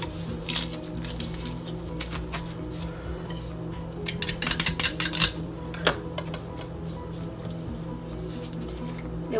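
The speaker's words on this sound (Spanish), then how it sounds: "van a ser 3 dientes de ajo. Se los voy a machacar aquí." Garlic cloves, three of them, being crushed in a kitchen for Dominican chicken soup, giving a cluster of sharp clinking, tapping knocks in the middle, with scattered lighter clinks before and after over a steady background hum.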